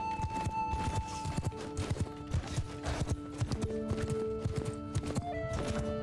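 Horse hooves galloping in Mount & Blade II: Bannerlord, a steady rapid clip-clop rhythm over a busy game soundscape with tonal music or effects and an occasional whinny.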